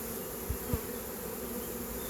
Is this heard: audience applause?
no